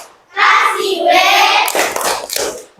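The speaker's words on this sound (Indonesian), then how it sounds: "Tepuk tangan dulu kita semua ya" A school class claps together in a rhythmic clap chant, a loud, close burst of many hands that runs continuously, then splits into a few separate sharp clap accents near the end.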